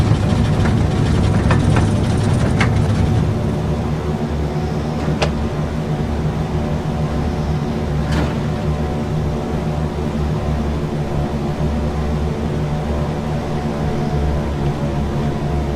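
Steady, loud drone of a DC-3's piston engines in the FSX flight simulator, held throughout without letup as the plane flies a fire-retardant drop near Olympia, Washington.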